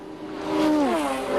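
Touring race cars at the 1984 Bathurst race sweeping past at speed, loud engine whine rising then bending down in pitch as they go by, a second car following close behind.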